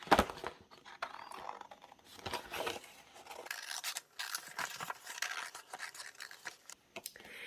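Scissors snip and slide through paper while a spider shape is cut out of a printed sheet, giving soft, close, irregular crunching cuts with rustling between them and no voices.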